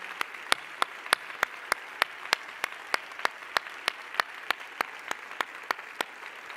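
Church congregation clapping in a steady, evenly spaced rhythm, single crisp claps at a moderate tempo, fairly faint and distant with no talk over it.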